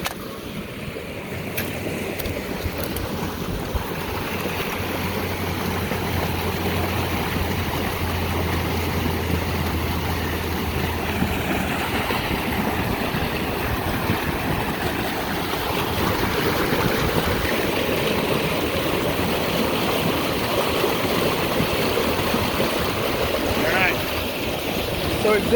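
Water from high-desert irrigation flows in a ditch as a steady, broadband rushing and gurgling that stays up close and constant throughout, with no break or pause.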